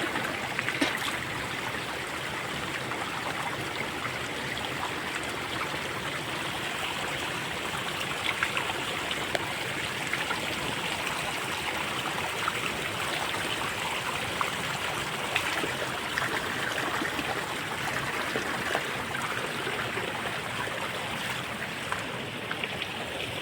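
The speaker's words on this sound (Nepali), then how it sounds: "यो चाहिँ लोकल धारा हो" A local public water spout in Nepal runs continuously, a steady rushing, splashing flow close by that holds even across the whole stretch, with no voices.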